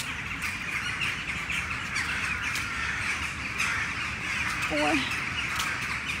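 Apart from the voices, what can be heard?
birds calling overhead, likely crows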